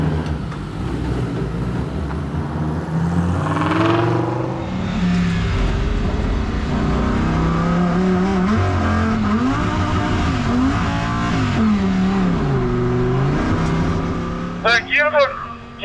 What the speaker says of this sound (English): You can start up the engine.